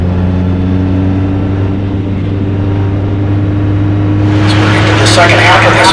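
Single-seater race cars circulate at Mid-Ohio during a club autumn race, a steady engine drone rising into a sharper, brighter howl near the end as a car closes in, with a commentator's voice over it.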